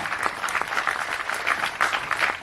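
An audience at a Tamil film event applauds steadily and loudly, a dense clapping texture with a few louder bursts and no clear speech.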